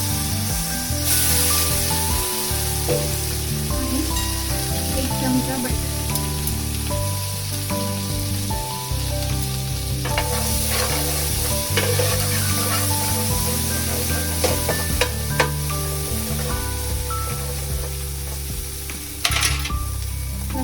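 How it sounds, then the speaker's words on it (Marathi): Pav bread warming with a spoonful of bhaji in a hot pan sizzles and crackles steadily, with occasional scraping and stirring clicks close by. "पाव गरम करण्यासाठी मी साधारण चमचाभर भाजी ठेवते"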